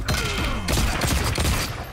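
Peacemaker's Sonic Boom attack lands in Mortal Kombat 1, a loud, dense rush of overlapping percussive impacts and whooshing sweeps that hit continuously for about two seconds over game fight effects.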